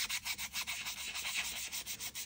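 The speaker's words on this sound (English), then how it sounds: "But this is just sanding smooth so easily with the 3M fine" A fine 3M sanding sponge rubbing over 3D printed resin model parts, quick rhythmic back-and-forth scratchy strokes, close and fairly soft, with no talk.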